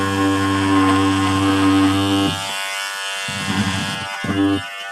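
A handheld rug carving machine trims around the edges of a round tufted rug, giving a loud, steady electric buzzing drone that cuts out briefly around the halfway point and then returns in shorter bursts.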